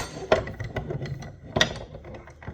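Metal clicks and ratcheting knocks as flat pliers loosen a snowbike soft strut end clamped in a vise, a few sharp clacks standing out among lighter tapping and scraping, close up and without talk.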